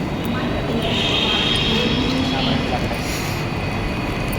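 Metro station ambience with a train nearby: a steady, loud, broadband rumble and hiss that holds without a break, with faint higher whines drifting through.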